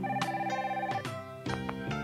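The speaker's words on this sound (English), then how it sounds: "telephone." A telephone bell rings in repeated short bursts against a steady musical background, moderately loud and close, with no talking over it.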